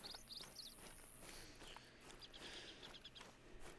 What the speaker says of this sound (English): I just heard the in-game bird sounds